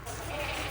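A goat's short bleat, close and fairly loud, with a wavering, nasal tone lasting under a second.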